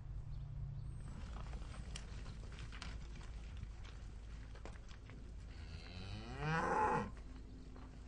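Dairy cows moo on a farm, one long drawn-out low moo rising and falling near the end, over a background of rustling, shuffling animal noise and faint farm clatter.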